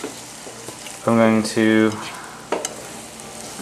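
Flounder and carrots with tomatoes sauté in a pan on a home stove while being stirred. Short bursts of sizzle and scrape rise and fall, with a person talking over the cooking.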